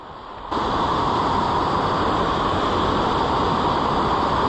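Lower Chasm Falls in Tasmania pours as a steady, broad roar of falling water. It begins quieter, then swells to a constant, dense rush with no pauses.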